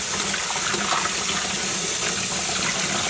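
Tap water runs steadily into a sink, warming up for dyeing cotton yarn, a continuous close rushing hiss with no voices.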